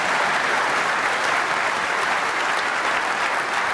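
Snooker crowd at a World Championship semi-final applauding a difficult shot, a steady dense wash of clapping from many hands that holds loud and even throughout.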